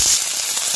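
Curry leaves hit hot oil in a pan with a loud, steady sizzling hiss, close up, briefly.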